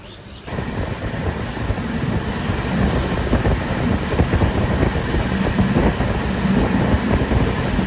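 Darjeeling Mail train running between Sealdah and New Jalpaiguri, heard from on board: a steady, loud broadband rumble of the moving train, constant and without speech, starting abruptly after a brief quiet moment.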